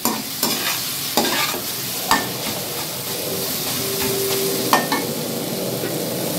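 Tomatoes sauté in a kadai for roadside sundal, with a constant close sizzle and sharp regular clanks of a ladle against the metal. There is no talking.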